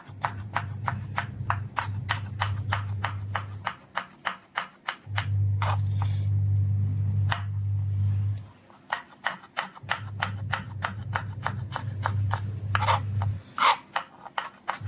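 A knife julienne-cuts vegetables for a mixed salad, giving rapid, evenly spaced crisp chops against a board, with a steady low hum running underneath most strokes.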